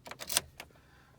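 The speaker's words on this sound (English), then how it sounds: "Let's take the key out." Car key pulled from the ignition of a 2008 Mitsubishi Eclipse, a short bright metallic jangle and scrape in a few quick bursts, then a fainter click, close by.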